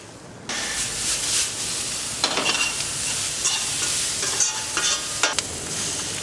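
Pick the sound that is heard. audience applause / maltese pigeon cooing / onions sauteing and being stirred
onions sauteing and being stirred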